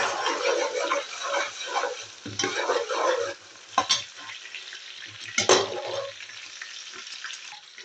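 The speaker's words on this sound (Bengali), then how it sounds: "পেঁয়াজ কাঁচামরিচ দেওয়ার পরে একটু লড়া দেবেন" Onions and green chilies sizzle in a pan while a spatula stirs them, with irregular scraping bursts and two sharp metallic clanks against the pan, close and fairly loud.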